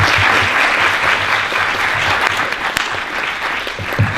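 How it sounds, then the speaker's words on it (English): An audience at a talk with artist RaMell Ross breaks into steady, close, energetic applause that holds strong throughout, with a few sharper individual claps poking out near the end. "Another round of applause"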